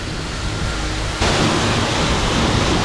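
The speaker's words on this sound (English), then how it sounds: "Soak this thing down." A pressure-washer wand starts spraying on a dirty 2005–2014 Ford Mustang for a pre-soak, a sudden loud, steady broadband hiss of water that cuts in over a quieter background rush and continues without a break.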